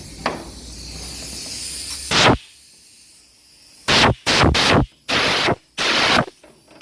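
Bursts of compressed air blasted into a vehicle wiring coupler to clear its jammed holes: one short hiss, then four loud close hisses in quick succession, each about half a second long, with no talk.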